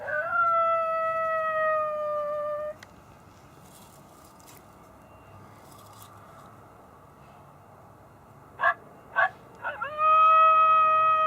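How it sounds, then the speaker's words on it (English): Long sustained gray wolf howls come from an electronic predator caller, loud and wavering, then stop; after a quiet stretch, a few sharp yips lead into another howl. "We'll do a gray wolf howl here."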